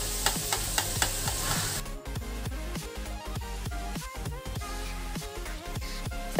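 Onions frying in a pan for dahi chicken, a steady sizzle with repeated stirring and scraping strokes in an uneven rhythm, heard close with no talking.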